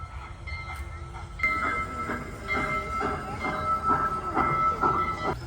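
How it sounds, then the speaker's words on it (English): A ride train at a dinosaur park rumbles in with a fake choo-choo sound, sustained whistle-like tones over rhythmic chugging that continues at moderate loudness. "They made the fake choo-choo sound."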